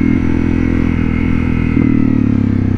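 A motorcycle idles and pulls away as a beginner rider slowly lets the clutch out with a little throttle, giving a loud, steady, close engine drone throughout.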